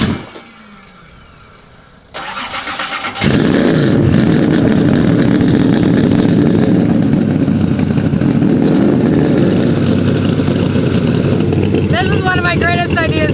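An 800-horsepower NASCAR race car engine cranks over, fires up and settles into a loud, steady, throbbing idle that fills the close-up scene; a voice speaks briefly near the end.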